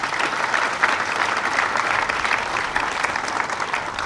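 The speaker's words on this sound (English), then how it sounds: "So let's give all of you a big round of applause." An audience at a laboratory building dedication ceremony breaks into sustained, dense applause, loud and even from start to finish with no voices standing out.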